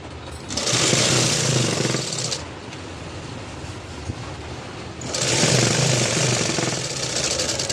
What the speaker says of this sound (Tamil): இப்போ லைனிங்கில் ஓரத்தில் தையல் போடுறோம்